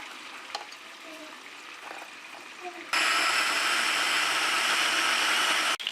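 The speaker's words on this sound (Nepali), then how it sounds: "र चिकन पाकिरहेको छ" Spicy chicken legs fry in oil. A faint crackle halfway through gives way to a loud, dense, continuous sizzle that holds steady until a brief break at the end.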